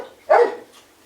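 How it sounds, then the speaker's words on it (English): A single sharp dog bark close by, one loud burst with a quieter trailing yip, heard in a home during a casual chat. "Oh, shut up, dog!"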